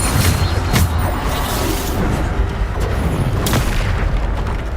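Bombarda spell blasts going off in the Hogwarts Legacy video game, a dense, loud run of booming explosive impacts and crackling bursts filling the whole span with little pause.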